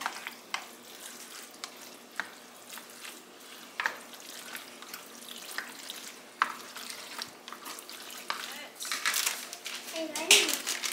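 Ingredients with Italian seasoning are mixed together, giving soft scraping and stirring noises in short irregular bursts, while someone talks over the mixing.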